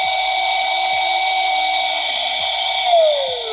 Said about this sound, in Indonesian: Ini speed 3.